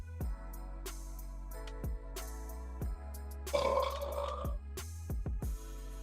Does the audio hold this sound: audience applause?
no